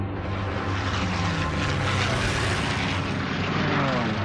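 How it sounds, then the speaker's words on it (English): Japanese warplanes strafing and dive bombing during the Pearl Harbor attack: a dense, continuous roar of aircraft engines, loud and sustained without a break. "Planes were strafing and dive bombing,"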